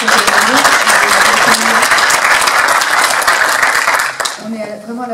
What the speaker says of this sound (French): Je crois qu'on peut applaudir le travail que vous